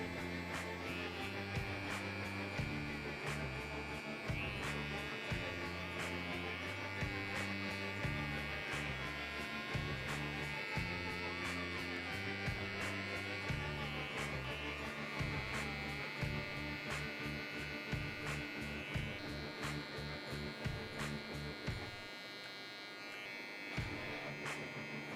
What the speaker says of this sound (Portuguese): Cuidado para não apertar muito a máquina contra a cabeça do cliente